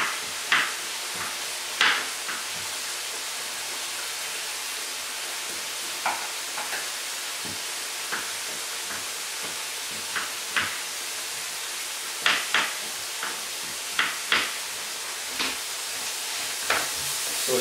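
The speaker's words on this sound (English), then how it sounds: "So we're softening up the onions" Onions soften and fry in a pan with a steady, even sizzle, while occasional sharp clicks and knocks of a utensil sound against it over a long stretch.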